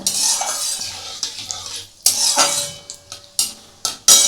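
Mutton liver being stirred in a hot pan with chili flakes, with a gentle sizzle and several sharp clanks and scrapes of a metal spatula, close up.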